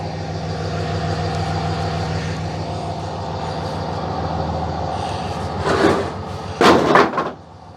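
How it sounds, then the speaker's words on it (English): Heavy blocks tossed into a truck bed while moving beehives, two loud clattering thumps near the end over a steady idling engine rumble. "I'll just throw the blocks in the truck."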